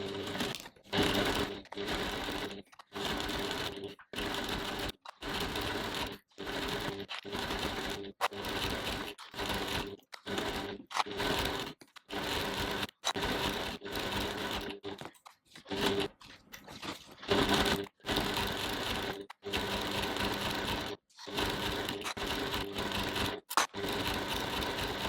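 A sewing machine top stitching around a bag strap, 3 mm from the edge with a long stitch length, runs in loud, close bursts of rapid stitching separated by brief stops throughout, with no talking.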